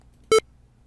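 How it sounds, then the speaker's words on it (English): A single short electronic square-wave beep, buzzy and bright, sounds once against near silence. "You could have your alarm clock sound like that"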